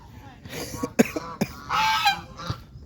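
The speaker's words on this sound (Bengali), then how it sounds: "ওই এখানে কতগুলি চীনা হাঁস আছে, ছোট ছোট। চীনা হাঁস না, বাংলা হাঁস।" Small Bengal ducks call at a village wetland, giving several short, nasal honking quacks at close range. The calls come in separate bursts with a longer call near the end.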